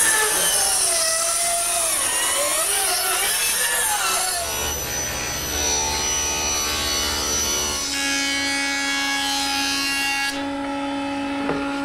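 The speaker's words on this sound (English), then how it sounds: "I'm going to cut it a little bit longer than what I need." A power saw whines steadily as it cuts a wooden board for a paymaster's desk, loud and close, its pitch shifting as the blade bites, with no one speaking.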